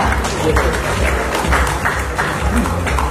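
Audience applause at a Marathi movie music and trailer launch event, uneven clapping with loud low thumps and some voices mixed in, rising and falling over a few seconds.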